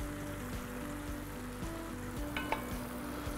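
A thick meat sauce bubbles and sizzles steadily, simmering in a pot, with soft popping and a faint clink of a utensil near the end.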